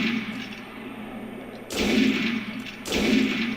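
Berserker blade gun firing in a video game: two heavy, booming blasts about a second apart, each with a long rumbling tail over a steady background hum.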